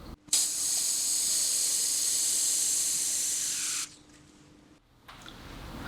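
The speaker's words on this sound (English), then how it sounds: "I'm then going to spray the product into this plastic cup here to demonstrate the volume of product" Soudal aerosol cleaner sprays hard into a plastic cup in one steady hiss of about three and a half seconds, then cuts off, leaving faint settling noise and a brief tap.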